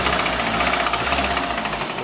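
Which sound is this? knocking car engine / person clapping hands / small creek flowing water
knocking car engine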